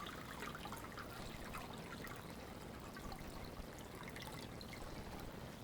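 Tap water runs steadily over lentils being rinsed at a kitchen sink, a continuous close hiss and trickle with no talk.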